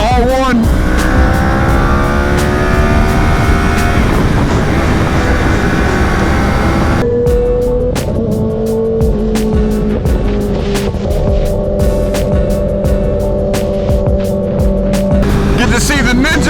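A Yamaha R1 superbike engine roars while being ridden on highways and twisty back roads, its pitch climbing through revs, then dropping after a gear change into a steady drone with wind rush, loud and close throughout.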